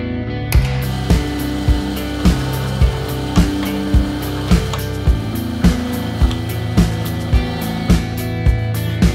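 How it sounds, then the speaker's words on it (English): Steady mechanical whir of a drill boring holes in Kydex, with a sharp tick-like burst about every half second, a regular motorized rhythm close by, with no talking. "First two we're gonna drill here and install those rivets"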